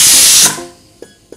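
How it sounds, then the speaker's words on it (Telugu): A pressure cooker on a stove vents a loud, sharp hiss of steam from its whistle while cooking millets, cutting off abruptly and dying away, followed by a couple of faint clicks. "ఇవి విజిల్స్ వచ్చినాయి కదా మనకి, 4 to 5 విజిల్స్ వరకు వచ్చినాయి"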